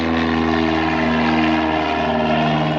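A propeller airplane passes overhead, its steady droning hum with strong harmonic tones holding loud and constant throughout, with no voices.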